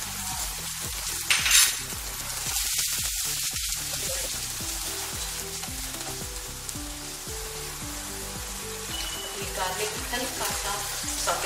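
Chopped garlic and green chili sizzling steadily in hot oil in a pan, a loud continuous frying hiss under soft background music.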